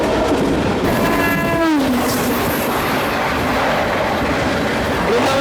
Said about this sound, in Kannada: Brindavan super fast express